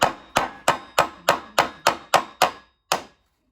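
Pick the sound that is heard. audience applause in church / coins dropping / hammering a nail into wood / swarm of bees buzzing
hammering a nail into wood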